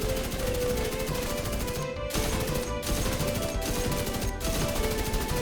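Rapid, sustained automatic gunfire from the shooter game Division 2, dense continuous shots with a few brief breaks, loud and steady throughout.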